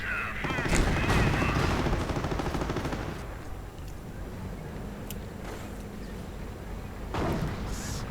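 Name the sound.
gunfire and artillery in a WWII strategy video game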